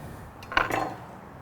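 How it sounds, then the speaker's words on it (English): A knife cuts a single slice through a smoked cabbage on a board, giving a brief crisp crunch followed by a light clatter of the blade, close and clear with no talking. "So here's the cabbage. I'm going to give one slice,"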